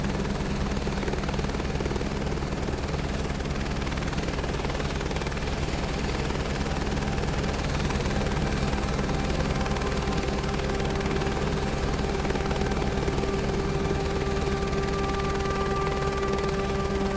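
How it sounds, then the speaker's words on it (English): Helicopter flying over Bryce Canyon in Microsoft Flight Simulator, a loud, steady rotor and turbine drone with a constant whine that continues alone throughout. "I don't want this helicopter ride to end."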